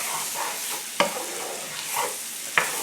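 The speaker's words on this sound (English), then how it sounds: "Keep that stirring so that the flour doesn't burn." Garlic and flour stirred in a hot pan for coq au vin: a steady close sizzle with two sharp utensil knocks against the pan and soft scraping strokes throughout.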